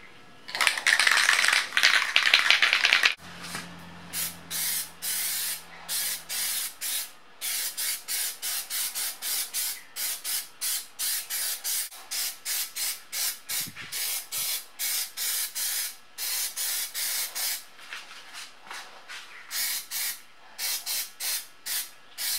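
Wax and grease remover aerosol sprays onto a cloth: a long continuous hiss for a few seconds, then many short rapid bursts in a steady stuttering rhythm, close by.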